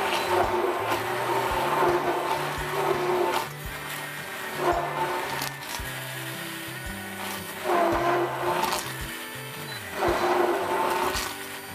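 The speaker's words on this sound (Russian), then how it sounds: "Я решила попробовать это взбить блендером." A blender whirs continuously, mixing milk and eggs, its motor droning with a steady grinding hum that swells and dips in loudness; no one speaks.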